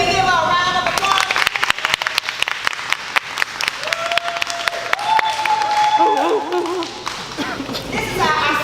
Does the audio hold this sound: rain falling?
no